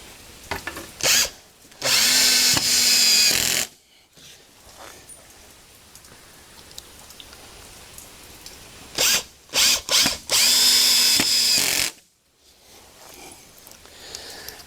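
Two loud bursts of a power drill whirring in short runs, driving screws into wood for garage shelves, separated by quieter stretches with faint rustling and clicks.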